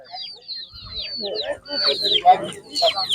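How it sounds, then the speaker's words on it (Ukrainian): Small chickens cluck and chirp up close at an animal market, several birds at once in a busy, continuous chatter. "Так, курочки. Такі курочки маленькі."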